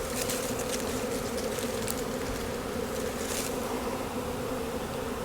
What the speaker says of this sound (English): Now the bees will be tempted to come back here, especially if the queen didn't go.